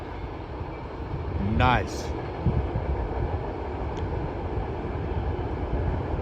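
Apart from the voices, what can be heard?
Wisconsin Central freight train with steel coils passing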